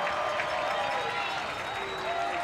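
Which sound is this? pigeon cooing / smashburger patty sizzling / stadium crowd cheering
stadium crowd cheering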